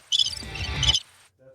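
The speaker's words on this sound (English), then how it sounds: "What's this one? Crickets." Crickets chirp in a loud, continuous shrill trill for about a second, alone and close, then cut off abruptly.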